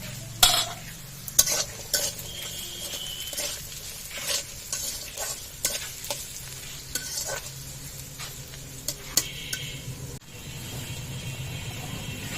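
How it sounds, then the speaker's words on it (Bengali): Potatoes fry in a pan with onion, chili and garlic, a soft continuous sizzle broken by repeated sharp scrapes and clinks of a spatula stirring against the pan. "এবার আমি এই শাকের ভিতরে দিয়ে দিব আলু, সেজন্য এই পেঁয়াজের সাথে আলুগুলো ভেজে নিব।"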